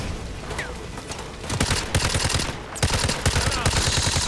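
Automatic weapons fire in the remastered Call of Duty: Modern Warfare 2 campaign, with close, rapid bursts of shots that grow denser and louder, rattling over a constant battlefield din.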